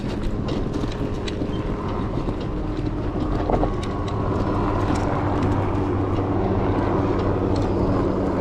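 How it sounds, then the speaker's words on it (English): A loud, steady engine roar with a deep rumble from a helicopter flying low nearby at Kaena Point on Oahu's North Shore, dominating the scene with no talking. "There's a helicopter behind us."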